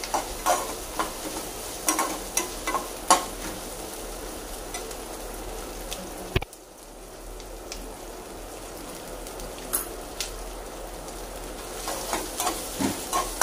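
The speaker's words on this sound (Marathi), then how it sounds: "हे व्यवस्थित आता तुम्ही बघू शकता की हे मी परतते आहे" Onions sauté for butter paneer, crackling and sizzling steadily in a pan while a spoon scrapes and stirs them in close, irregular strokes; the frying briefly quiets midway, then picks up with more stirring.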